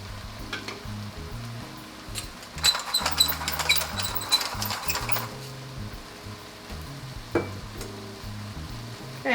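Pork sizzles loudly in a hot pan for a white-wine pork stew, with steady frying crackle and repeated stirring scrapes and clatter throughout, up close and with no talking.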